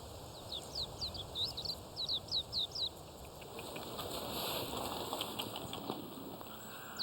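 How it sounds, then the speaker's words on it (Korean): Small mountain birds at a temple in a wintry forest fly in to feed on scattered rice, giving a quick run of high chirps in the first half, then a soft flutter of wings with faint calls against quiet outdoor ambience. "익숙하게 날아들어 쌀을 먹는 산새들"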